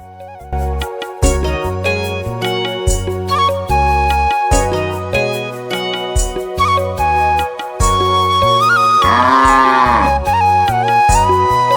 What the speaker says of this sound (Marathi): इथं पण म्हशी गाई पण आमच्या जय बापूंना लय कमी केली वाटतं.